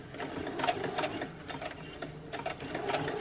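A sewing machine stitches a puffer vest with red thread around the neckline, giving a fast, quiet mechanical chatter in short bursts of rapid clicking with brief pauses between runs.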